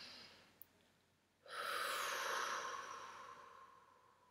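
A long, audible out-breath during a guided relaxation exercise rises suddenly and fades slowly, close and soft, preceded by a brief faint click in an otherwise quiet room.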